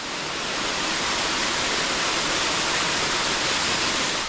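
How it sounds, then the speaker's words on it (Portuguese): Cachoeira da Gruta, a waterfall in Rio's Tijuca Forest, pours with a steady, dense roar of falling water, loud and close, unbroken and free of voices. "Essa então é a cachoeira da Gruta."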